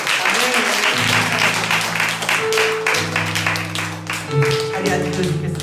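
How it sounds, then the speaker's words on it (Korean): Congregation clapping together at a Korean church worship gathering, dense steady applause lasting throughout, with sustained organ or keyboard chords and a voice underneath. "우리 다시 한번 그 일을 위해서 주님 앞에 영광의 박수 드리겠습니다."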